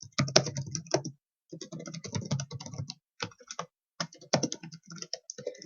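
Typing on a computer keyboard, close and clear, comes as rapid bursts of clicking keystrokes separated by short pauses, with no talking.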